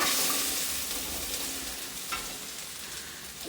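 Okra frying in oil in a pan with garlic and curry leaves, giving a steady, close hiss of sizzling with a faint scrape or two, moderately quiet.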